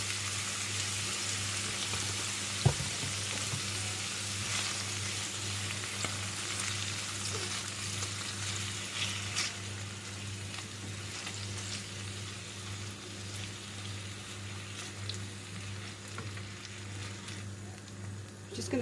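Garlic paste frying in a pan over lowered heat gives a steady, even sizzle that runs the whole time with a few faint clinks, and no one speaks.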